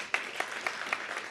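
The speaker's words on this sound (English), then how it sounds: "give a big round of applause" An audience applauds after a live poetry performance, a steady wash of clapping with a few louder individual claps standing out.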